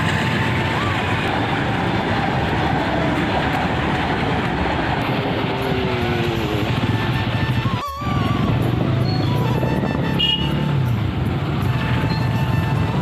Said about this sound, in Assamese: গেটটো পৰি গ'ল ট্ৰেইন আহিব এতিয়া